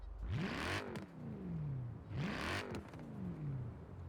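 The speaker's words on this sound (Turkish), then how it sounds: "Aracın sesini yani stok motorla sesini dinletmek istiyorum size." In Forza Horizon 4, a stock Mercedes-AMG E63 S engine revs twice in close succession, each rev sweeping up sharply then falling away, loud and near with no talking.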